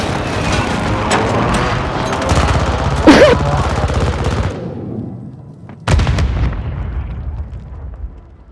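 A bunker gun turret fires in Call of Duty Warzone on Rebirth Island, heard as dense, loud bursts of gunfire and blasts with a louder shot partway through, then a quieter stretch before another sharp blast and fading reverb.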